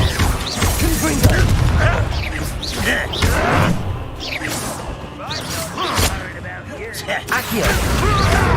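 Combat in Hogwarts Legacy on hard mode, with Confringo fire blasts landing as repeated booming impacts and crashes amid whooshes and thuds, a dense, loud, continuous barrage.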